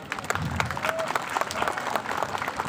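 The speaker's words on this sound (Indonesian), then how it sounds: "Ya, kasih tepuk tangan." Audience clapping at an inauguration ceremony for polling-station officers in Tambora, scattered sharp claps forming a loose round of applause with low murmuring underneath.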